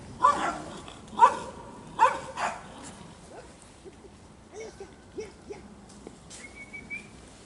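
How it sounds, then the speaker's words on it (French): Two dogs fight close by, with a few sharp barks early on followed by smaller yips and growling scuffles, a whistle-like tone near the end and some background noise. "il y a deux chiens qui se battent juste à côté de moi"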